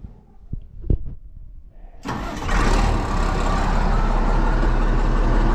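A cold Allis Chalmers 7045 farm tractor engine cranks with a few sharp clicks and knocks, then catches quickly and settles into a loud, steady diesel idle close by, without talk.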